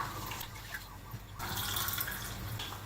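Water sloshes and trickles as pandan-flavoured sago pearls are rinsed in a bowl, soft and close, with the splashing growing fuller and steadier partway through.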